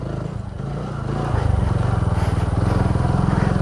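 A dirt bike rides a trail of slippery, bouncy rocks, its engine note throbbing and rising in pulsing rhythm, with the frame rattling and clattering close by throughout.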